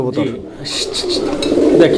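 Fancy pigeons at a farm give soft, low cooing calls close by, with a few brief brighter bursts, while someone talks over them.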